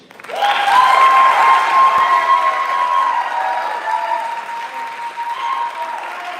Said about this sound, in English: I wanted to rival the applause for Will there